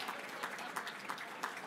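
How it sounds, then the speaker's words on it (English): An audience at the Hofstra Athletics Hall of Fame induction ceremony applauds the 2024 class, a steady, moderately loud wash of clapping from a mid-sized crowd in a hall. "a round of applause for the Hofstra Hall of Fame"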